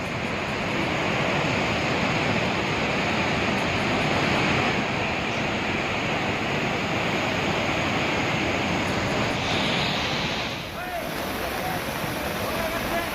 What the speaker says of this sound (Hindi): उफान पर हैं नदियां, देख सकते हैं भारी बारिश के चलते